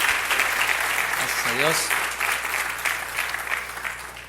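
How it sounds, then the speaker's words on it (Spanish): A church congregation claps steadily for students, a dense wash of applause fading slightly toward the end, while a voice speaks briefly over it. "Demos un aplauso a todos los estudiantes."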